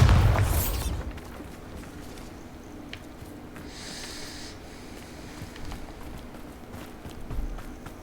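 A single booming spell blast from a fantasy video game erupts loudly at the start, then fades into a quiet ambient background with faint scattered sounds.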